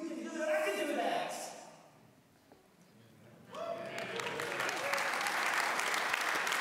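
A church congregation breaks into clapping: a voice speaks first, a brief lull follows, then a broad, sustained wash of many hands clapping rises and continues to the end.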